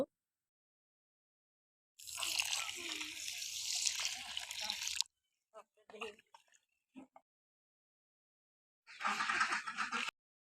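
Water is poured over ground goat feed ingredients to soak, a close three-second gush of splashing liquid, then scattered drips and small splashes, and another brief pour at the end.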